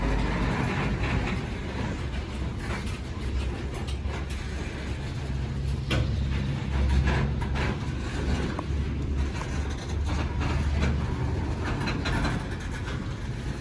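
A loaded coal train rumbles across a curved railroad bridge along the Ohio River, a continuous low rolling roar with wheel clatter and rhythmic clunks, heard nearby with wind buffeting the microphone.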